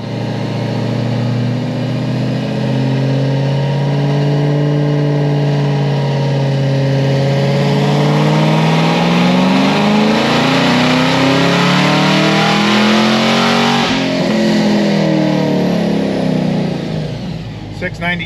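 A turbocharged car on a dyno, tuned for low boost on 93 octane, revs hard through a loud sustained pull, its engine note climbing steadily in pitch before easing off at the end, with no talk over it.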